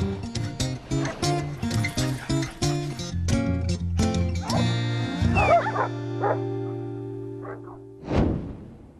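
At Cesar Millan's dog psychology center, several dogs bark and yip in quick bursts, with whimpering and a droning engine hum underneath; a final loud bark stands out near the end.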